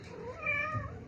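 A pet cat, one of several kittens, meows in a drawn-out, rising and falling cry close to the microphone, with soft room noise beneath and no talking.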